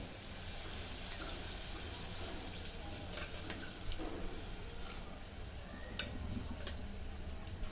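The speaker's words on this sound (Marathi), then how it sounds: "परतून घेते आता हे शिजवून घेतलेले चणे" Boiled chickpeas sauté in a pan, giving a continuous soft sizzle with faint stirring scrapes and a few light clinks, close but fairly quiet, with no talking.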